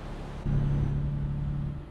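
Truck engine in Euro Truck Simulator 2 with ProMods, a low steady rumble that swells suddenly and holds, faint to moderate and alone.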